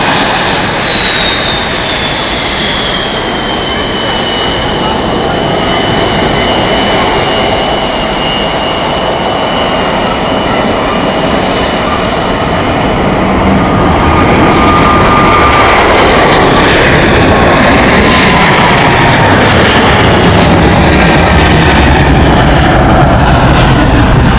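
A Swiss Boeing 777 jet takes off at Zurich Airport, its engines roaring loud and steady throughout with a whining tone, building slightly in power as it goes.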